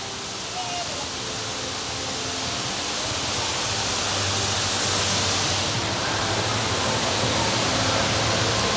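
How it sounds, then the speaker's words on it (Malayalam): An artificial indoor waterfall splashes inside Singapore's climate-controlled Cloud Forest dome, making a loud, steady, close rushing roar that swells slightly over time. "ആ ബിൽഡിങ്ങിൻ്റെ ഉള്ളിൽ ടെമ്പറേച്ചർ കൺട്രോൾ ചെയ്തിട്ട് ഒരു വാട്ടർഫോൾ ക്രിയേറ്റ് ചെയ്തിരിക്കുന്നു."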